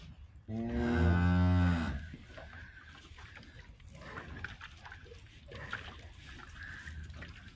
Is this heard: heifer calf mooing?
yes